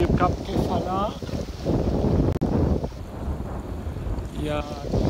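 Wind roars across the microphone aboard a sailboat with a partly furled genoa near Cap Kefala in the Greek islands, blowing at about 18 knots with heavy gusts and sea noise throughout, while a voice speaks intermittently.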